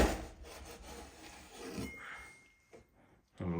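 A knife saws through the head of a large salmon being prepared for grilling, making close, quiet rasping strokes in a short irregular series, with a few sharper scrapes near the end.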